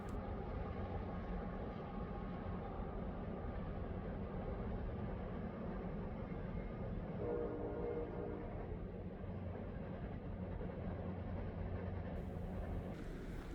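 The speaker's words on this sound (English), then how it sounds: "It is an empty coal train headed back into West Virginia." Empty coal train heading back into West Virginia rumbles steadily past at a distance, a low continuous rolling drone with faint metallic wagon hum, no voices.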